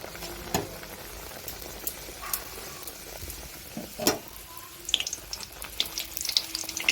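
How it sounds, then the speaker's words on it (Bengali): Rolled puri dough fries in hot oil, giving a faint, low sizzle broken by scattered pops and light clinks. "এখানে আমি তেল গরম করে নিয়েছি। এতে আমি একটা একটা করে নান দিয়ে দিচ্ছি।"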